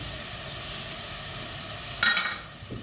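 Mushrooms sizzling in a hot pan, a steady frying hiss that flares up briefly as more mushrooms go in, then settles again.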